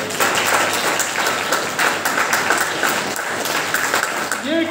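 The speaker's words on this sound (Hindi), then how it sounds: "एक जोरदार तालियों से।" A crowd at a yoga championship prize ceremony in Chandigarh gives the chief guest loud, sustained applause, dense and steady, before a voice starts speaking at the very end.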